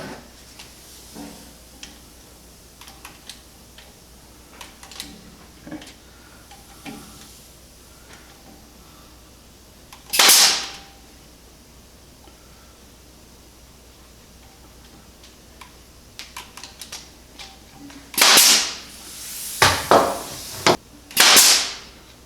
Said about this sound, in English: Nail gun, please.